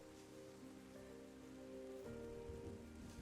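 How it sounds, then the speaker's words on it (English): Steady rain patters over a low, sustained hum in the video game Terra Nil, getting a little heavier partway through, with no voices. "It is raining"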